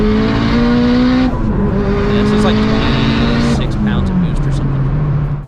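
A Toyota Supra mk4 sports car pulls hard at full throttle, engine tone climbing loudly through the revs, dropping at a gear change near the second mark and rising again, close and dominant, with voices faintly underneath.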